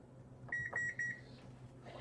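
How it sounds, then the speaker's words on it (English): Kitchen timer beeping three times in quick succession, clear and close, against a quiet room hum, followed by a short soft rustle. "I'm going to set a timer for 10 minutes."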